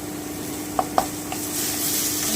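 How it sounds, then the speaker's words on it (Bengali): Poppy seed paste and coconut paste sizzle and fry in a pan while being stirred, with a couple of sharp utensil scrapes and clicks over a steady hiss. "এবারে খুব ভালো করে কষিয়ে নেব"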